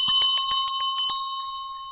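A little bell rings in a quick series of bright, high-pitched strikes, about eight close together, then a long ringing tone slowly fades out.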